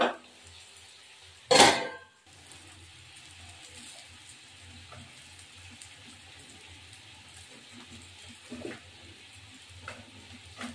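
A lid lands on a cooking pot of Bengali fish curry with potatoes and freshly added onion stalks, making one sharp, loud clank near the start, followed by quiet kitchen ambience with a few faint later clinks.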